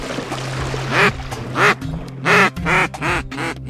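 Goldeneye ducks on open water calling with several loud, close, nasal quacking bursts in quick irregular succession over a low background hum, no talking.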